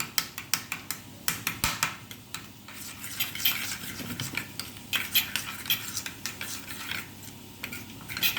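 A spoon stirs salt, garam masala and Kashmiri chilli into yogurt in a bowl, beginning with a quick run of sharp clinks and settling into continuous scraping and tapping, close and alone.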